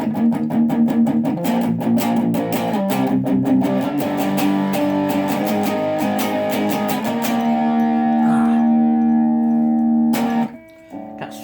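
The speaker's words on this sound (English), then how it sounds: "So let's say we go right down to distortion." Loud distorted electric guitar, a Les Paul or Stratocaster, playing sustained chords and struck notes, ringing steadily before cutting off abruptly near the end.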